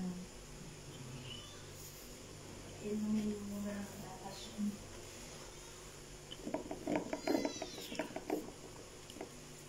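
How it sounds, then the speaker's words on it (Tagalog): A cat's faint meows and rustling patter come from a rural home with a chicken coop, under light background noise and brief voices. "Pusa na naman"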